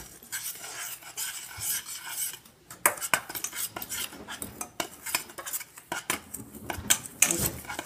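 Chocolate pie ingredients being stirred in a bowl, with irregular bursts of a utensil scraping and clinking against the sides, close and uneven, separated by brief pauses.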